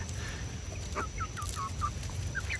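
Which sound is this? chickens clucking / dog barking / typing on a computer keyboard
chickens clucking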